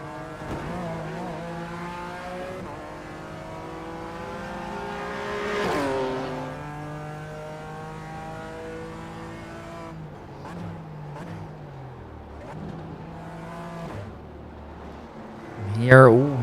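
A BMW M race car in iRacing roars steadily with rising and falling engine harmonics through gear changes, ending in a sharp burst of tire squeal near the close. A commentator talks over it throughout.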